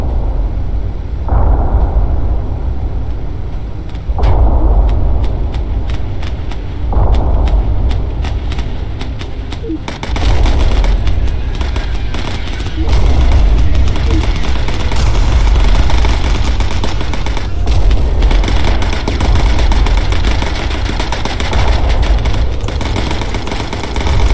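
Bomber gunners firing .50 caliber machine guns in the video game Bomber Crew, rapid rattling bursts over a constant droning engine roar, loud and sustained.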